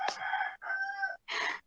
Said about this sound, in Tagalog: Oo, manok.